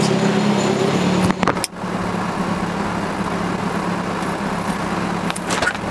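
A 1995 Lotus Esprit S4S sports car engine runs at a steady idle, a low continuous rumble with a brief sharp disturbance partway through.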